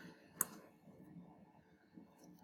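A single sharp click of a key pressed while typing a sine calculation, close and crisp in an otherwise quiet room, followed by faint low background murmur.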